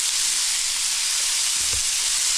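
Onion sautés in hot oil with a loud, continuous close-up sizzle and a brief low clunk of stirring near the end, with no voices.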